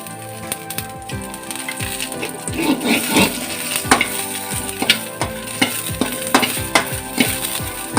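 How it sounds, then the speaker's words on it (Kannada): Masala spices, including black peppercorns, roast in a little coconut oil in a pan, with a steady close sizzle and frequent scraping, clinking stirs of a utensil against the metal. "ಅದಕ್ಕೆ ಮಸಾಲೆ ಹುರಿತೀನಿ ಈಗ."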